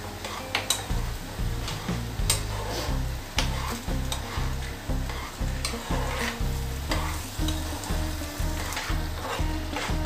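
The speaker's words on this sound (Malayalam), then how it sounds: "നന്നായിട്ട് ഇളക്കി കൊടുക്കുക." Macaroni being stirred in a pan for masala pasta, a spoon scraping and knocking the pan in a steady repeated rhythm over a soft sizzle, close and fairly quiet, with no talk.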